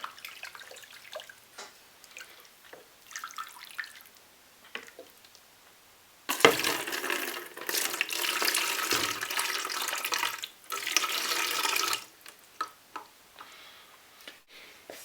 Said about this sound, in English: I'm just going to pour it in and swish it around and then pour it back out